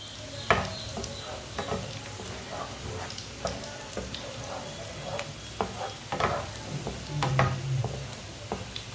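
Oil sizzles steadily in a pan as red chilies fry for a tadka, with scattered pops and crackles and occasional stirring clinks, close up and moderately loud.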